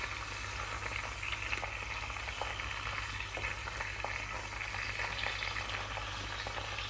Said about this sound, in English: Still sizzling down in there.